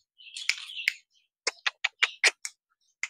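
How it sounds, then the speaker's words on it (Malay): Small birds in a backyard garden near a nest give a burst of chirps, then a series of short, sharp, evenly spaced calls, fairly faint, with no talking. "burung pun dah ramai tu, dah banyak Atan"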